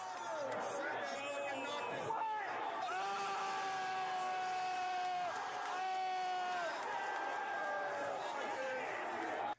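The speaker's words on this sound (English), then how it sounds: "Listen to the crowd." A large crowd at a Final Fantasy XVI reveal cheers and yells in a continuous loud roar, with drawn-out whoops and shouts rising from nearby voices.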